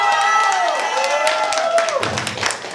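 Audience applause and cheering from wedding guests during a wedding contest judging the experts, a steady crowd clapping under a sustained singing or speaking voice that rises and then drops away.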